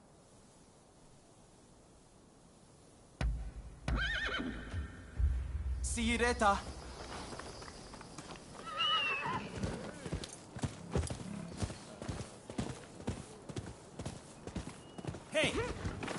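Horse in Rise of the Ronin: after a quiet start, a neigh and close hoof clip-clops begin, continuing in an irregular rhythm over ambient hiss, with speech heard briefly.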